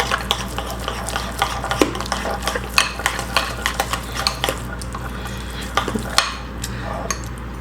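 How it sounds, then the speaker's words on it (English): Almond butter stirred into bulletproof coffee with a spoon, quick rhythmic clinks and scrapes against the cup over a low steady hum, close and moderately loud, no speech. "I'm gonna give this a really good mix."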